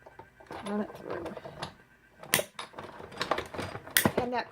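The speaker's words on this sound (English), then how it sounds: "that crunching sound for people new to these die machines that's normal" A die cutting machine crunches and clicks as a taped paper sandwich with a top plate runs through it for laminating pressed flowers, sharp uneven bursts close by, while a person talks over much of it.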